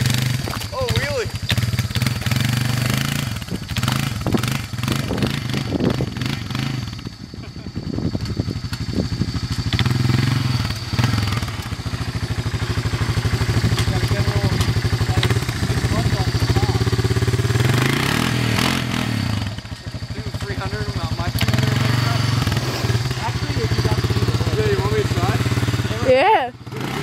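Honda Fourtrax and 300ex ATV engines rev and clatter while climbing a snow bank during a 2010 blizzard, producing loud, continuous close engine drone that rises and falls in bursts, with people talking and shouting over it.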